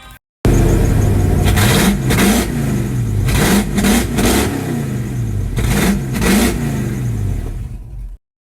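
An old truck's engine revs hard as it pulls away, loud and close, climbing and dropping in repeated surges of acceleration for about eight seconds before cutting off.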